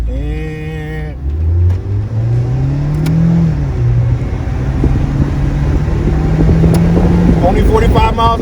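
A 2020 Mazda MX-5 Miata accelerates hard at full throttle on an open road, its engine note climbing steadily through the gears as a loud, continuous drone with wind rush, and someone talks over it.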